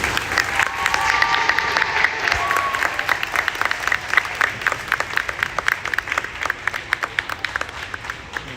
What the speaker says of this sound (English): We'll give one more round of applause, please, with the 7th grade.